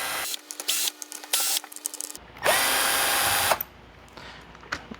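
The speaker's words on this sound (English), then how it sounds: "So we need to remove 4 more screws here." A power screwdriver backs screws out of a TouchPad module in an Audi C7 A6/A7, sounding as short close whirring bursts with a longer, louder run in the middle and quiet gaps between.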